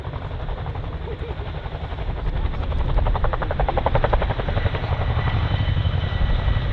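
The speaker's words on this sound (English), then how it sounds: "one of the only helicopters in the world that can reverse on 2 wheels" A loud, steady RAF Chinook helicopter rotor thump and engine roar, close by at an airshow as it hovers and reverses, building slightly as it continues.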